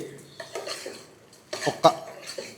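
Metal spoon scraping and clinking in a pot as chilli powder and salt are stirred into mutton for gongura mutton curry, a few uneven clatters with soft background sounds.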